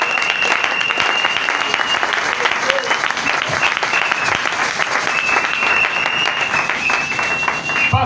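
A church congregation applauds steadily for several seconds, dense, even clapping that fills the space with a faint tone held above it.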